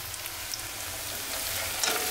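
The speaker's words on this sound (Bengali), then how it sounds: "ওই যে রুই মাছ ভাজি নিচ্ছি" Rui fish fries in hot oil, a steady close crackling sizzle that swells slightly near the end.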